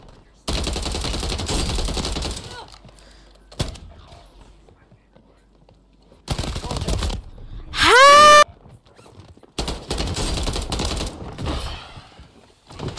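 Gunfire from a weapon in Call of Duty Warzone on Rebirth Island: several long bursts of rapid automatic shots with a single sharp report between them, loud and close, and no talking.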